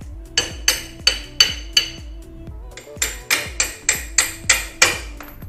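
Repeated hammer blows knock the wheel axle out of a Bajaj Pulsar 220F motorcycle during a chain and sprocket change, about a dozen sharp metallic clanks in a steady rhythm, loud and close with a short pause midway.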